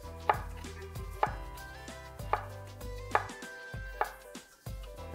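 A knife chops through stacked daikon slices into julienne, five crisp, evenly spaced thuds on a cutting board with a faint ringing pan tone underneath, no voices.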